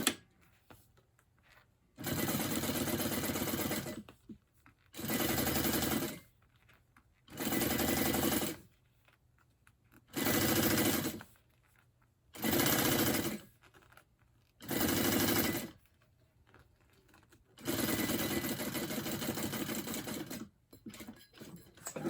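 A sewing machine top stitching a bag runs in short bursts of rapid, even stitching, about seven runs separated by brief pauses, close and clear with no talk.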